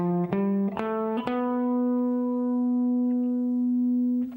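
On a distorted electric guitar, a short run of picked single notes in the Locrian mode sounds an octave lower, then one low note rings out long and steady until the clip ends.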